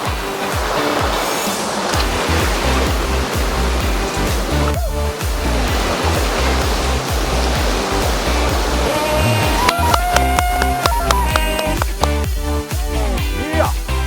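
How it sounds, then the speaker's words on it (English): Loud, continuous rushing water from an underground river fills the scene, a steady roar like a fast-flowing stream, with a few brief metallic clicks and rattles partway through. "If you can hear behind us, there's soothing water, very nice"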